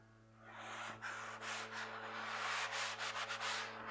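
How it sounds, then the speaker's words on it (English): Close, quiet rasping strokes of sanding dried drywall joint compound at a wall corner, several short scrubbing passes with no talk. "after that, I just kind of sand out the rest of it"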